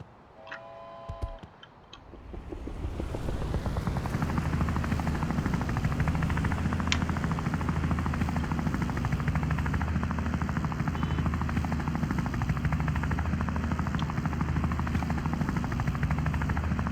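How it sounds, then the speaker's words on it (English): A police helicopter in the video game Wobbly Life spins up after a few short clicks. Its rotor then builds into a loud, steady, chopping drone that carries on unbroken, with no talk over it. "Let's get in the police chopper."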